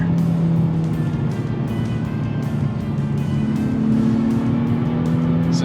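2023 Nissan Z sports car driving through a corner, a loud continuous engine drone heard from inside with a gradually rising pitch and a steady rushing road noise.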